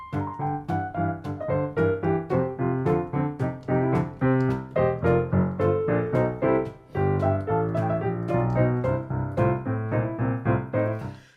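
Boogie woogie blues piano plays a full, powerful turnaround in the advanced style, with dense rolling bass and chordal right-hand patterns pounding out a steady driving rhythm, loud and close with no talking.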